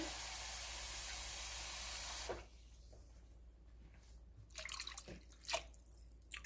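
Water pours into a pot of Hungarian beef goulash with seared meat: a steady, close rushing hiss for about two seconds, then it stops, leaving quiet with a few soft clatters.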